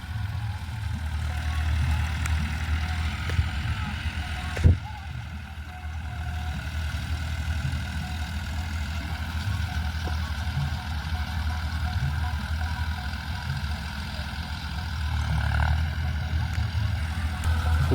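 A tractor engine runs while straw is spread in a field, a steady low rumble that holds at even strength throughout, with one sharp knock partway through and no talking.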